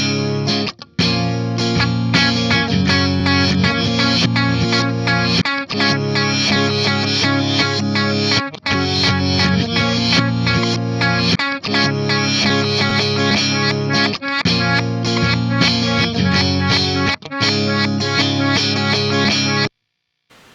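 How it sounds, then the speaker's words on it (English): An overdubbed electric guitar part layered over a reversed loop on a Fractal AX8 looper, dense and continuous with effects-heavy distortion and chorus, playing steadily for about twenty seconds before cutting off. "we play it at reverse and then we overdub a guitar part"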